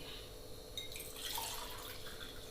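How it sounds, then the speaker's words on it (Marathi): Hot water is poured into roasted semolina in a pan while making sheera, a faint watery splash and sizzle that swells after a quiet start and continues steadily. "हे गरम पाणी आपण केलं ना ते आपण"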